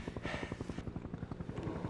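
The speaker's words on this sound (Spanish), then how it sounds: "Un helicóptero." A helicopter's rotor thumps in a fast, steady beat, close and fairly loud, with a brief hiss of rushing air early on.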